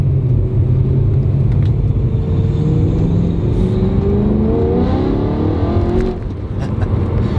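A BMW E92 M3 drives and accelerates, its engine note rising steadily through the revs as a loud, close rumble from inside the car, then dipping briefly near the end, with no talking.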